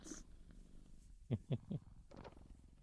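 A cat purrs softly and close in the background while three short, louder low thumps or bursts stand out in the middle, all faint with no speech.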